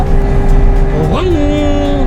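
A Ferrari Purosangue engine downshifts through steering-wheel paddles, its steady hum rising in a quick rev blip partway through before settling at a higher note, with some voices around it.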